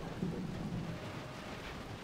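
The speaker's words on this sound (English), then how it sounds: "it's now raining" Rain and rolling thunder from a battle in the strategy video game Roma Surrectum, a steady wash of rainfall with a low rumble of thunder swelling near the start, no talking.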